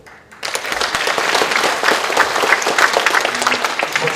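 Loud, dense applause from a party convention audience swells in after a brief quiet moment and holds steady, a large crowd clapping together at close range.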